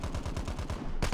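AK rifle in Call of Duty: Mobile battle royale firing a rapid automatic burst of roughly nine evenly spaced shots, close and punchy, ending with a sharper final report.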